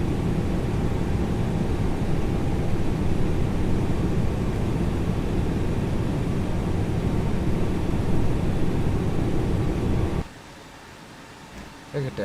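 FlightFactor A320 airliner departing Dallas in X-Plane 11, a steady loud broadband jet roar that holds evenly for about ten seconds and then drops abruptly to a quiet hiss.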